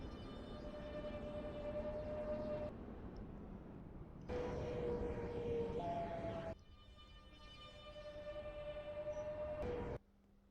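A video game train pulls into a station platform, its motor giving a steady whining hum that cuts in and out in three long sections over a soft rumble, with no talk.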